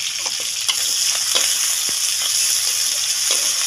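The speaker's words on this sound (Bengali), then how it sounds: "চিংড়ি মাছটা পেঁয়াজের সাথে একটু ভাজা ভাজা করব।" Shrimp fry with chopped onion in a loud, close, continuous sizzle. A few sharp stirring taps sit on top of the hiss.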